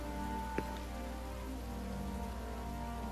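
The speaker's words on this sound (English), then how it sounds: "It's raining." Steady rain falling in the video game Final Fantasy XV, a continuous hiss of drops on surfaces with one brief sharper tap near the start, no voices.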